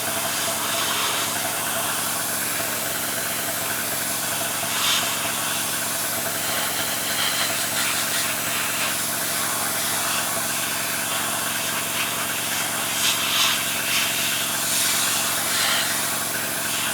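Steady airbrush hiss lays a light coat of paint on an Academy 1/35 M10 Duckbill scale model kit, continuous and even throughout, close and fairly loud with no talking.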